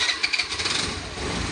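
Honda Activa scooter engine catching and settling into a steady mid-pitched idle after repair in a garage, with a few quick pulses at the start before the running hum evens out.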